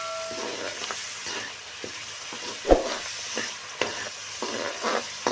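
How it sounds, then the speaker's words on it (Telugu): Coarsely ground coconut is stir-fried in a pan for mutton paya curry, producing a constant soft sizzle with scraping spoon strokes and one sharp clank midway. No one speaks. "పోసుకున్న తర్వాత బాగా వేంపుకోవాలండి"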